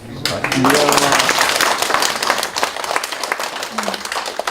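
A lecture audience applauds at the end of a talk, broad sustained clapping that swells then gradually thins, with a few voices faintly mixed in.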